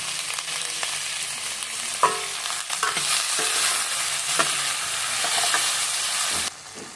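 Green chillies and sliced onion sauté in hot oil for a drumstick leaves sambar, giving a steady close sizzle broken by several scraping stirs of a spatula in the pan.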